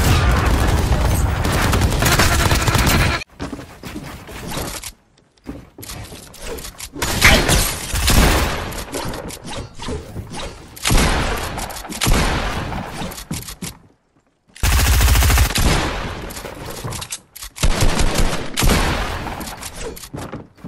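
Bursts of loud rapid gunfire in a video game, several long volleys broken by short silences, with booming impacts and no speech.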